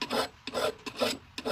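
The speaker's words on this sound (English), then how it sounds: "One more time on this side with the coarse, just to even up some of these spots." An axe blade worked with a coarse hand file, four long rasping strokes in a steady rhythm, close and loud with short pauses between passes.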